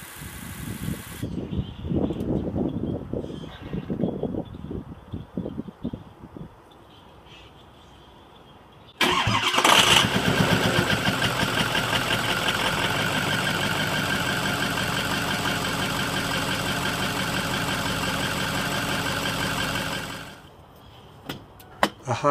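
Ford Powerstroke 6.0 diesel cold-starting in the morning: quiet clicks and shuffling, then the engine cranks and catches with a sudden rise into a steady, rattling idle that holds for about ten seconds before dropping away.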